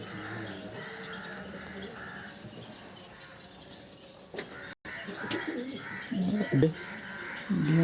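Pakistani teddy pigeons in a loft give soft, low repeated coos, close and fairly quiet, while people talk nearby and occasional shuffling and handling noises rise near the end.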